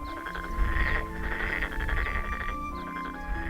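Frogs croak in chorus around a spring island village on Jeungdo, a salt-producing island in Sinan, steady overlapping calls heard at moderate distance without any talk.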